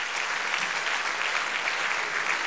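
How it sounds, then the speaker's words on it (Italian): Continuous, even applause from the audience at a tribute concert evening, a dense wash of many hands clapping at steady loudness through the whole clip. "fate un applauso"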